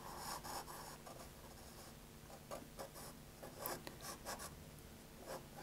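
Sailor Fude fountain pen nib scratching across paper during a loose ink sketch, a faint steady scritching with soft irregular strokes and small ticks, close and quiet with no voices.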